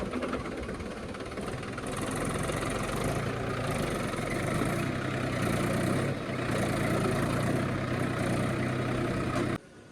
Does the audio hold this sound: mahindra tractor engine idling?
yes